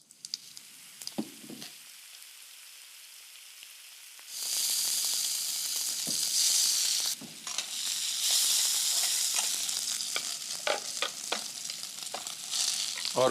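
Cumin and onion hit hot oil in a kadhai and burst into a loud, steady sizzle after a quiet start with a few light clinks, the frying hiss continuing with scattered stirring taps.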